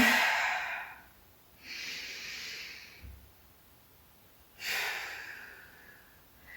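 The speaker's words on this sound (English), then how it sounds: "Using that inhale, inflate everything up. Exhaling as you come back down." Breathy exhales and inhales come close to the microphone during a classical mat Pilates exercise, in three separate hissing breaths with quiet gaps between them.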